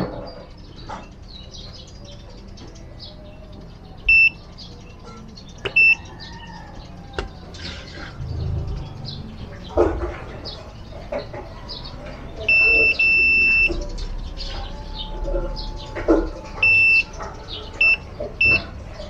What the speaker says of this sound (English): using the tester, we'll check if there are shortage for this one.